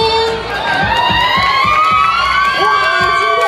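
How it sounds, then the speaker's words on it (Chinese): Audience at a leg-beauty queen pageant final screams and cheers loudly and continuously, high shrieks and whoops over a dense crowd roar, with rhythmic clapping or stamping pulses underneath. "今天尖叫声不断哦，看样子亲友团非常多。"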